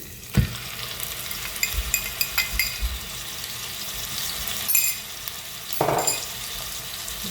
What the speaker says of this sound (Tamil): இப்போ எண்ணெய் கொதிச்சிட்டுது. இந்த அரைச்சி வச்சுக்கிற வெங்காயத்தை போட போகிறேன்.